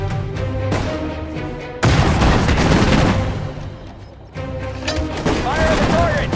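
Heavy gunfire and explosions in a US Army war video game, with dense, sustained bursts and booming impacts that build and fade in waves, overlaid by game voice callouts.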